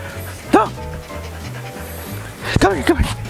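A dog being trained to bark on command gives two short, sharp vocalizations about two seconds apart, close to the microphone, over a low steady background hum.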